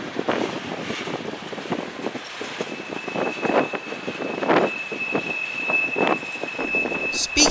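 A CSX freight train led by EMD SD40-3 locomotive 4003, built 1980 for the Louisville and Nashville, rolls past with a steady rumbling roar, clattering wheels and a thin sustained squeal in the mix.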